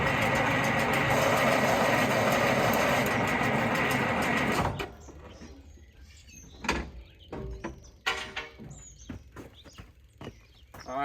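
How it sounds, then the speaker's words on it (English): The starter on an Allis Chalmers 7020 tractor cranks the engine over with a loud, continuous grinding whir for about five seconds, then cuts off, leaving quieter clanks and rattles nearby. "Crank her over a little bit."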